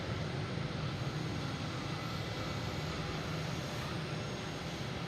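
A jet airliner taxiing at Boston Logan International Airport, a steady, dense engine roar and rumble held at an even level throughout, with no distinct breaks.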